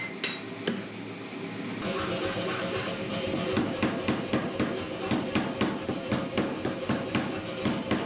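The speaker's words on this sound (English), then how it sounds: "So I'm forging down to as close as dimension as I dare, checking often with calipers" Hammer forging tough steel, with repeated metallic blows striking in a steady rhythm, loud and close, over a continuous background din in a workshop.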